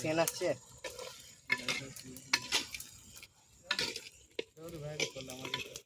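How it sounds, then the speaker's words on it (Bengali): Chicken curry meat sautés in a pan at an outdoor forest cookout, with a spatula scraping and stirring through a soft sizzle while a person talks over it nearby. "কষানো হচ্ছে এখন"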